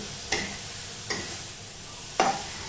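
Mochar bharta, a mash of banana flower, being stirred in a pan over a gas flame: three short scraping strokes spaced about a second apart, with a faint sizzle between them.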